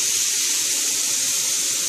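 Steady, bright hiss of water hitting a hot pan of strawberries and sugar, a continuous sizzling wash that stays even throughout, close up with no voices.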